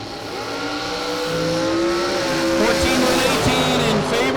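Door trucks drag racing at a drag strip: a loud sustained engine roar rising in pitch as the vehicles accelerate, with an announcer talking over it.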